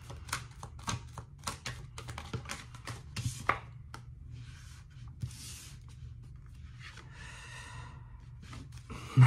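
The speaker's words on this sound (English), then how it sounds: "just give me a second to pull some cards for Capricorn" Tarot cards are pulled and shuffled near the microphone, giving quick crisp snaps and rustles in irregular bursts, then softer papery swishes.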